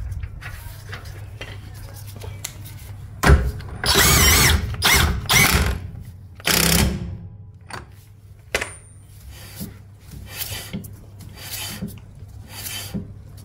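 A power tool whirs in several loud bursts of a few seconds each while the nut goes back onto the rear brake drum of a 2006 Renault Kangoo, with quieter clinks and rubbing between the bursts.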